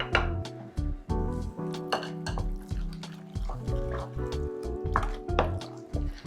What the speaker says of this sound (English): we start stirring it up